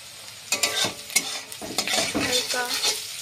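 Spatula scraping and stirring fried egg in a kadai, with repeated rhythmic strokes and clatters over a continuous sizzle of frying.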